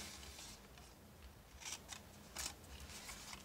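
Scissors snip through paper during a papercraft box project, a few soft, brief cuts clustered in the second half, quiet and close over faint room hiss, with no talking.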